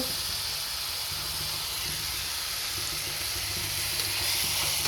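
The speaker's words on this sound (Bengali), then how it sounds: "এই যে আমি আদা বাটা রসুন বাটাটা দিয়ে দিলাম, আমি একসাথে বেটে রেখেছি" Steady, dense sizzle and hiss of ginger-garlic paste frying in hot oil for a soybean curry, continuous and fairly close throughout with no talking.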